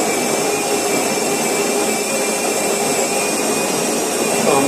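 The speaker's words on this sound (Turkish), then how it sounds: "Şu anda kahveyi öğütüyorum. Makine içerisinde." Jura ENA 5 espresso machine grinding coffee beans internally; a loud, steady whirring drone with a high whine holds evenly for nearly five seconds, no talking over it.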